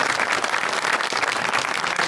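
Loud, dense applause from a comedy show audience fills the room for a guest, a continuous wash of clapping with no voices over it.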